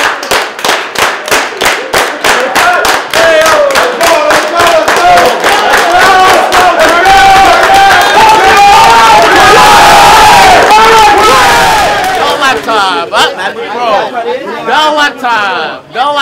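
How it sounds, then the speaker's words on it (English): A Black Friday crowd of shoppers waiting in line outside a Best Buy at the Staten Island Mall claps in a rapid steady rhythm, then breaks into loud cheering and shouting, close and very loud, with a voice leading the crowd. "Let's clap it up."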